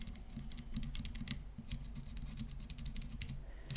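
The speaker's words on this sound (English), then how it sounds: "And then both linear basically have a really similar sound." Dygma Raise keyboard fitted with linear switches being typed on, a steady run of close, soft keystrokes with a muted low thump under each press and no talking.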